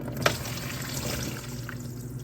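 Water drains out of a Caterpillar D4 pony motor, pouring and trickling steadily in a thin splashing stream, close by, with a brief clink near the start.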